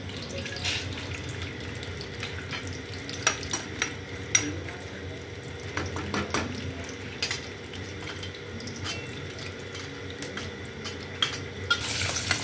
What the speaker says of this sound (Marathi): चला आता आपण शेंगदाणे टाकून घेऊया.